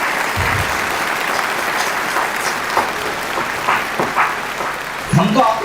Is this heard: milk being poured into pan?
no